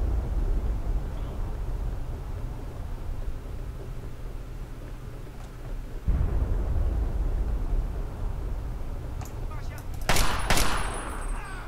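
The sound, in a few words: gunfire in the video game Fallout 3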